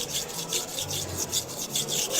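A Misono UX10 70/30 right-handed kitchen knife grinds back and forth across a whetstone in steady, close strokes, each pass a rhythmic wet scraping rasp with no voices.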